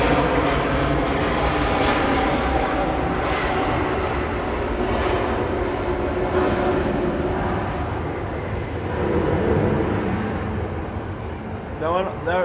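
Jet airliner taking off on the far side of Atlanta's airport, a steady broad engine roar that holds through the whole stretch, with a person talking over it nearby.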